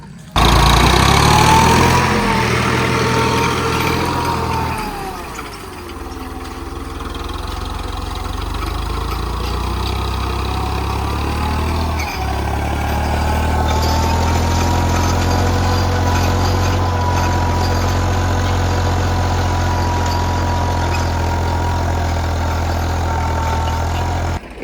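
A tractor engine runs in a field on a hot day, loud and close, sagging briefly under load, then settling into a steady, throbbing drone.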